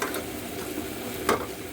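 Onions stir-fried in a pan with egg and chicken for chicken chow mein give a steady close sizzle, with a brief louder scrape or toss near the end.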